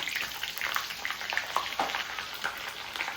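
Curry leaves, sliced green chili and chopped ginger sizzle in hot oil in a pan while being stirred, giving a steady close crackling fry with scattered scraping strokes and no voices.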